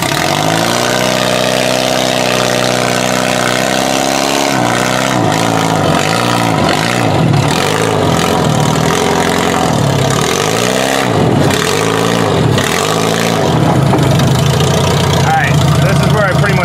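A car engine idles roughly, then is blipped through a series of repeated revs that rise and fall, loud and close, before settling back to a steady idle and a final climb.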